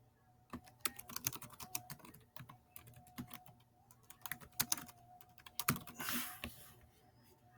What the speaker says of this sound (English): I'll just type it in so I don't have that same problem